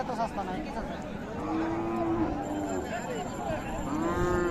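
Sahiwal cows with calves mooing at the Raniganj cattle haat in Dinajpur, with several drawn-out low moos rising over a busy background of crowd chatter and voices.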